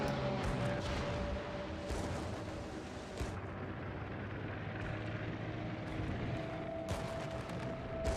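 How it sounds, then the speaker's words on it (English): Torpedo strike hitting a ship in World of Warships, a dense, continuous rumble of explosions and booming impacts with sharp bursts throughout, loud and steady, with no talking. "And here comes the torpedo strike."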